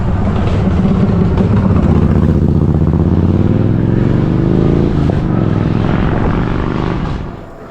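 A loud motorcycle engine rumbles close by on a main road, a steady heavy drone holding for several seconds before trailing off slightly at the end.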